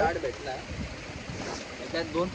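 A waterfall rushes beside a campsite at a hidden spot in Karjat, giving a constant broad wash of water noise with some wind buffeting, while voices murmur over it.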